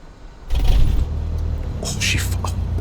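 A carbureted aircraft engine in Microsoft Flight Simulator 2024 cranks and catches with a deep rumbling start, then settles into a steady low drone, with a voice speaking briefly over it.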